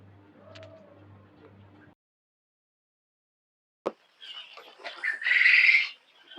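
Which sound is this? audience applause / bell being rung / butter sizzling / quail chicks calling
quail chicks calling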